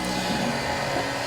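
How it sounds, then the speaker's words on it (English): A steady, close whooshing roar of blown air from a heat gun at full blast holds constant throughout, used while installing sound deadener. "use your heat gun, go over it until it's nice and tacky"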